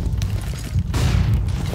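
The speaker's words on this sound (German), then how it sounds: "Flashbang." A flashbang grenade detonates in a Counter-Strike match, a loud, dense boom filling the short moment with heavy low rumble and a burst of broadband noise.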